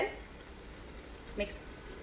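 Green chillies, coriander and mint fry in a pan for a Restaurant-style aloo palak, a low, steady sizzle close by with one brief stirring scrape partway through.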